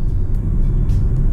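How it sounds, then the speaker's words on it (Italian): A car with an automatic gearbox rolls downhill in neutral, speeding up, giving a steady, loud low road and engine rumble with tyre noise throughout and no voices. "la macchina sta aumentando velocità anche molto più che quando avevo la marcia innestata"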